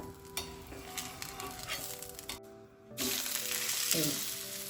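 Rava chila batter frying in oil in a pan gives a moderate sizzle with a few clinks of utensils, briefly dropping out before a louder burst of hissing returns.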